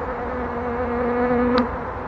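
Honey bees buzz steadily in an opened hive during a September inspection, a dense, agitated drone that holds close and constant throughout, with one brief higher note near the end.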